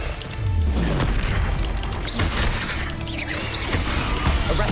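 A fire spell cast in the Hogwarts Legacy video game, a burst of whooshing flame with booming impacts and clattering mechanical effects, dense and loud over about five seconds with no voice.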